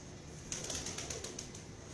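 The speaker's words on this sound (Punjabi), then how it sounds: "ਸ਼ਾਨਦਾਰ ਕਬੂਤਰ ਹੈ" A pigeon, a fancy show bird at a pigeon market, with a faint soft flutter of wings and a low coo, quiet against a hissy background.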